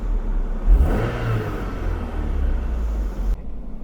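An MG TF anniversary edition sports car with a 135 hp K-series engine pulls away under acceleration, its engine rising into a strong, close revving rumble that holds steady and then cuts off sharply.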